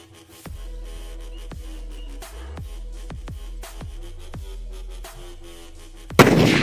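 A series of sharp Diwali firecracker bangs, about a dozen spaced irregularly, followed by a loud crackling burst at the end.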